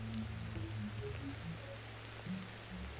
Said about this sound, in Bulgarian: Спря дъждът.